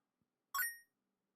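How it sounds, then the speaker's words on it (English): A single short electronic beep, bright and tonal with a quick decay, sounding alone in near silence. "I heard a beeping sound and the horse did nothing"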